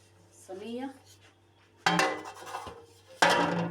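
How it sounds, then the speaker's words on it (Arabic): A metal baking tray or pan handled in a home kitchen while making oven qaraqeesh, sounding as three clanking metallic clatters, the last two loud and close with ringing scrapes. "وبجيب الصاج بتاعي او الصينيه"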